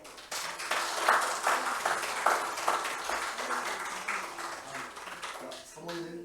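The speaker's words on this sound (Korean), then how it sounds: "박수 한번 해주십시오" Church congregation clapping for a gift presented to the pastor at a retirement service, a steady burst of applause over a few seconds, with a voice speaking over it.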